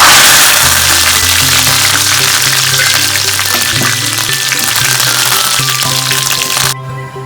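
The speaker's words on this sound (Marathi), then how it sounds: "आता आपण कढीपत्ता भाजणार आहोत." Curry leaves crackle and sizzle as they hit hot oil for thin poha chivda, a loud, dense, steady frying hiss that runs close up almost throughout, then drops off abruptly near the end.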